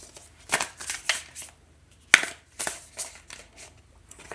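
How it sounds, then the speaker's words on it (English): A deck of cards is shuffled up close, with several quick riffling bursts and crisp snaps coming in uneven rhythm, and no talking. "I've been playing with these cards and doing nothing."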